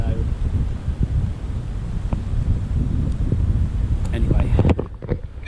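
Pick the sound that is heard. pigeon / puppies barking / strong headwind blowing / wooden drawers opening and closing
strong headwind blowing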